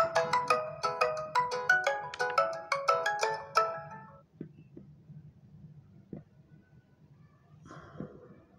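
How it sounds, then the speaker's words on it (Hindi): A phone ringtone rings out in a rapid, repeating melodic pattern for about four seconds, then stops, leaving a quiet room hum with a few faint clicks and a short rustle near the end. "भी कोई फ़ोन आ रहा है डिस्टर्ब हो जाएगा"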